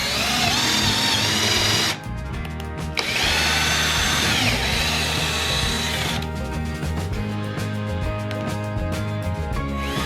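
Power drill driving screws into pre-drilled holes in a wooden furniture piece, a loud, steady whirring drone with brief pauses and pitch shifts as each screw sinks into the wood.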